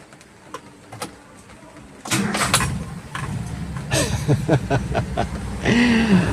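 A Toyota Kijang Kapsul with a carburetor and a faulty setup cranks and then catches, settling into a rough, uneven idle with revving swells, close and fairly loud.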